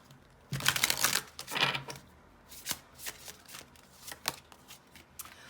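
Tarot cards are shuffled by hand up close. Two fuller riffling bursts are followed by a series of lighter, scattered card flicks and slaps, with no talking.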